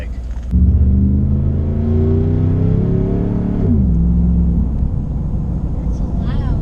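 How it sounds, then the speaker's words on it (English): A 2011 Ram 1500 Hemi with resonators deleted cruises on the highway, windows up, its exhaust a loud, steady low drone that drops in pitch as it shifts partway through, heard from inside the cab. "So it's a lot louder with the windows up than it was when I had the resonators on."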